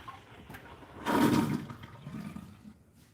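Dishwater drains out of a kitchen sink in a rushing gurgle that swells suddenly, then tapers to a softer trickling drain, close by with no talking.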